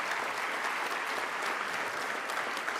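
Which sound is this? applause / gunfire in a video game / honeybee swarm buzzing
applause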